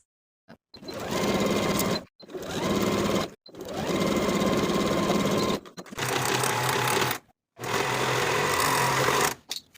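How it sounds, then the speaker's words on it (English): A sewing machine stitches the curved crotch seam of a pair of relaxed barrel-leg pants, running in five loud, steady bursts separated by short silent pauses. "Sew the crotch curve with a 3/8 inch seam allowance"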